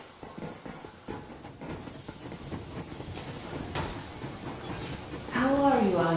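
A steam train pulling away in the video game Metro Exodus, with a hissing release of steam and rising whistle-like tones at the end over rumbling rail noise and a speaking voice.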